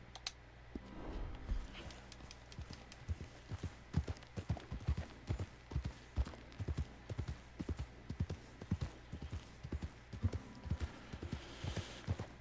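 Horse hooves clip-clopping in the video game American Truck Simulator, a steady walking rhythm of sharp hoof strikes, close and clear over a quiet background for the whole stretch.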